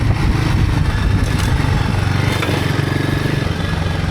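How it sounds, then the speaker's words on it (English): Royal Enfield Himalayan 450 single-cylinder engine lugging at low revs through deep sand on a Michigan singletrack trail, a steady, loud, throbbing drone that holds without pause from start to finish. "I'm lugging the motor a real lot"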